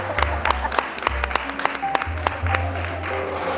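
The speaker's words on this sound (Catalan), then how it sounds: "Si li voleu donar un aplaudiment, doncs també." An audience at a poetry book launch breaking into brief applause, a dense patter of claps lasting a few seconds, with a voice speaking over it.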